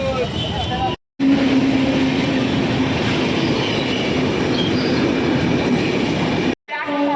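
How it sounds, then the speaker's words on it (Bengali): A train rumbles loudly and steadily nearby at Bidhannagar station, Kolkata, with a faint squealing tone of wheels running underneath, cut by brief gaps of silence. "উল্টোডাঙ্গা স্টেশন থেকে প্রথমে আমাকে ট্রেন ধরতে হবে"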